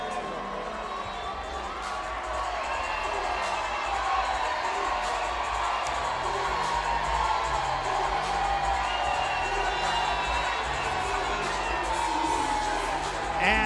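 A large boxing crowd roars and cheers for Claressa Shields at a professional bout, a dense, continuous wall of noise holding steady and loud throughout.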